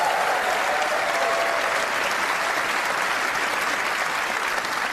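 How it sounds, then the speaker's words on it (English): An audience at the BAFTA Games Awards applauds loudly, a dense, steady wash of clapping from a large crowd in a hall that holds even throughout. "Please give them a round of applause, ladies and gentlemen."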